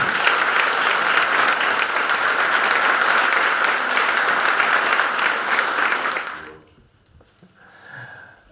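Sustained applause fills a town council meeting, dense and steady for about six seconds before fading abruptly into near silence with a faint sound at the end.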